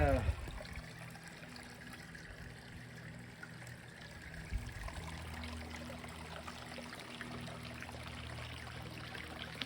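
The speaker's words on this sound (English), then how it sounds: "you could probably just sit right here and meditate with this little sound of the babbling brook" A small babbling brook trickles and pours over rocks in Terrace Canyon at Red Rock, a soft, steady, quiet wash of water with a brief splashier moment partway through.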